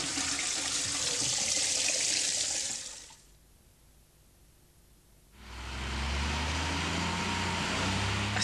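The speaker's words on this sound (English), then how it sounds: "Now I'm going to clean the bowl itself." Water running loudly while a toilet bowl is cleaned, a steady hissing gush that stops for about two seconds and then starts again just as strong.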